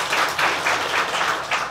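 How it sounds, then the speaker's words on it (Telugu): An audience at an acting school inauguration applauds, a steady patter of many hands clapping at close range with no voices over it. "క్లాప్స్ కొట్టండి"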